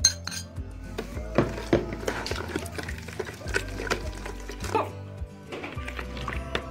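A spoon clinks repeatedly against a glass while stirring warm milk with yeast and sugar, a close, busy run of bright chinks and scraping taps with brief pauses.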